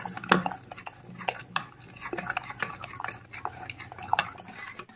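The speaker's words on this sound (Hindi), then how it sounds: "अब इसको हम चम्मच की सहायता से ऐसे ही मैश करते रहेंगे।" A spoon mashing and stirring cooked mustard greens for Punjabi sarson ka saag in a pot, with repeated close scraping clinks of metal on the pot at an irregular pace over a soft, wet squelch.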